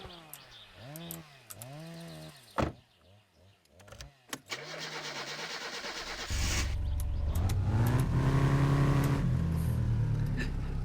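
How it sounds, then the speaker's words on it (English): A Datsun-style five-speed manual mini truck in the driving game My Summer Car starts up, then its engine settles into a loud, steady drone that fills the second half, after a stretch of music-like tones and clicks. "Oh yeah, this is a Datsun mini truck basically."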